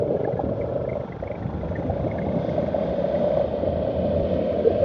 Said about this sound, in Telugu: అంత ఇంజన్ సౌండ్ కూడా అంత రావట్లే, స్మూత్ ఉంది. అండ్ ఎగ్జాస్ట్ సౌండే వినిపిస్తుంది.